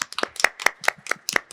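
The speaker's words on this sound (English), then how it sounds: "Can we have a round of applause?" A few people in an audience at a law and policy talk clap in sharp, separate bursts, about seven distinct claps over a second and a half, close and moderately loud with brief gaps between them.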